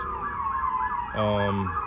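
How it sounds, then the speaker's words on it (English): Emergency vehicle sirens wail outdoors beside a summer garden, a rising and falling tone joined midway by a second, louder wavering siren, all over steady background noise. "What are the damn sirens?"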